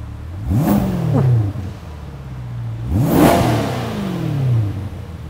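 Chevrolet Corvette V8 engine blipped twice with the exhaust in silent mode, each sharp rev climbing quickly and then falling back toward idle, loud and close with no talk.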